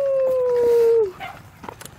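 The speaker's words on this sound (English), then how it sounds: "are you howling?" A Malamute out trick-or-treating lets out a loud, sustained howl that holds steady for about a second, then slides down and breaks off, followed by faint rustling.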